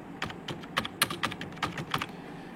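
Close keystrokes on a computer keyboard as an online form is filled in, an uneven run of crisp clacks and taps with small pauses between bursts and no voices.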